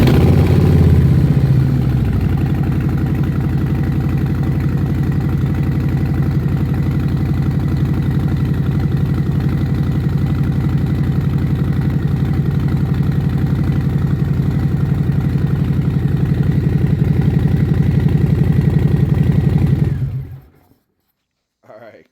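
A 2024 Harley-Davidson Breakout fitted with a Gallop Mainshock exhaust idles just after startup with a steady, deep, throaty rumble, close and loud for about twenty seconds before cutting off abruptly.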